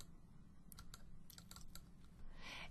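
Quick light keystrokes tapped on a computer keyboard, a short run of soft, close clicks in a quiet room with faint background hiss.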